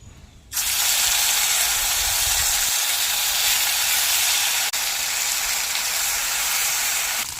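Spice paste ground on a stone slab drops into hot oil tempered with black cumin and dried chillies in a pan. It bursts into a loud, continuous sizzle that starts abruptly and holds steady without talk.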